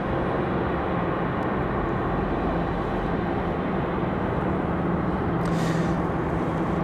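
Airliner departing Raleigh-Durham International Airport, heard as a steady, broad jet roar that holds at a constant level throughout, with no voices over it.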